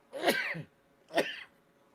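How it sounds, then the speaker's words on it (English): Two quick bursts, a sneeze followed by a shorter second one, close to the listener with quiet between them. "I gotta sneeze."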